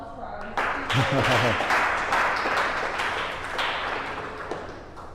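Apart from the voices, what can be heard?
audience applause after workshop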